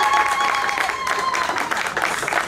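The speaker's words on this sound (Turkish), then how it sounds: "Meryem Hanım'a kocaman bir alkış istiyorum" Applause from an audience at a gastronomy gathering, a steady wash of many hands clapping, with a tone and voices faintly underneath.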